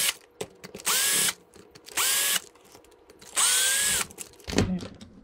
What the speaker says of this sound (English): Pull off the 4 screws for the back of the diff case.